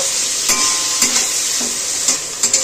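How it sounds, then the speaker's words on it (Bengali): Onion frying in hot oil in a wok, with a steady bright sizzle and a stirring scrape or light clatter about every half second. "পেঁয়াজটাকে হালকা করে ভেজে নেব।"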